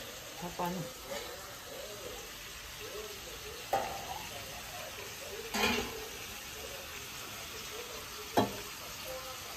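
Chicken curry with dried drumstick pods sizzles faintly in a pot while a spoon scrapes and stirs in a few short bursts, with quiet voices in the background.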